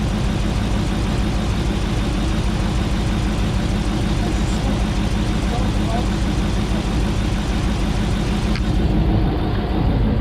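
A 2009 Hemi 1500 V8 idles after an engine rebuild, a steady close low rumble running evenly throughout with a faint raspy exhaust texture.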